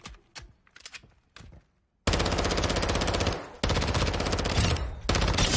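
Long-range guns in a video game let off a few sparse shots, then break into sustained rapid automatic bursts. The fire is loud and close, with short pauses between long fusillades and no speech.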